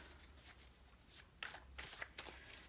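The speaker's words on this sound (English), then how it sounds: "I felt like shuffling again." Playing cards shuffled in quick riffling bursts, several short crisp flutters in a row, close and fairly quiet.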